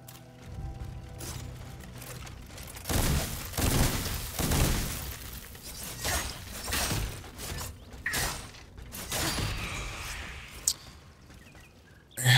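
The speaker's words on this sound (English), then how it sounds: "That hand cannon is really useful in freezing them." A hand cannon fires in a dark gothic action video game, heavy blasts landing amid crunching, shattering impacts and clanking mechanisms, with louder bursts in the middle and scattered hits toward the end.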